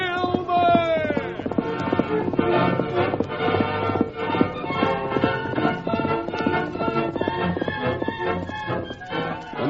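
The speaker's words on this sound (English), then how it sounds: "swiftest of all was the masked man's white horse, whose hoofs thundered against the earth" Radio-drama galloping hoofbeats of a white horse pound in a fast, continuous rhythm, close and loud, mixed with an orchestral music score.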